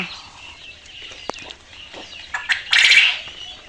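Caged quail on a quail farm chirp and rustle nearby, with scattered sharp clicks, a wing flutter and a brief louder burst of calls near the end.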